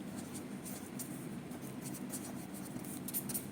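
A pen writes numbers on paper in a quiet, close scratching that runs continuously, with small strokes picking up toward the end over a soft background hiss, and nobody speaking.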